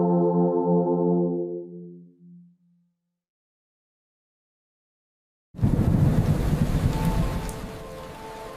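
Steady heavy rain pours down loudly with a rumbling thunder texture, following a fading low synth tone and a few seconds of silence.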